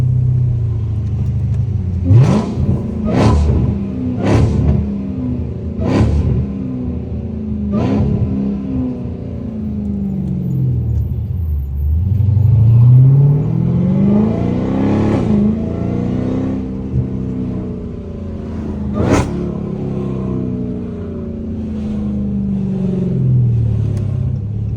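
Supercharged Dodge Charger Hellcat engine revving repeatedly from inside the car, sharp blips at first, then a long rising and falling high-pitched supercharger whine over a deep rumble, loud and close with no talk.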